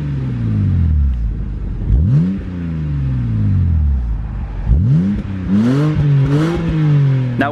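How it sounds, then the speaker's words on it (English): Loud BMW 1 Series exhaust revving repeatedly, the engine note climbing and dropping in several sharp bursts and burbling between revs, close by. "it already has a decent exhaust, which I will insert a clip of now"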